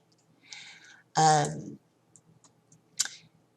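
A computer mouse gives a few sharp, close clicks spread across a few seconds, with a short burst of voice between them.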